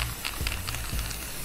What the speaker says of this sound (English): I'm spraying on top of the aluminium.